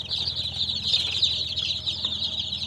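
Baby chickens peep continuously in a dense, high, overlapping chorus while being given vaccine mixed into their drinking water, close and steady with no talk.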